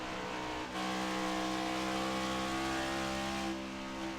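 A stock race car engine in the iRacing sim at Dover revs sharply as the car spins, a loud, harsh, continuous roar that holds high for several seconds before dropping, with no talk.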